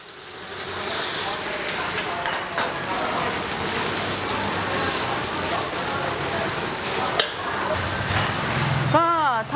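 Tofu pieces stir-frying in a pan for a vegetarian curry-paste stir-fry, giving a steady dense sizzle with scraping stirs throughout and a brief clatter near the end.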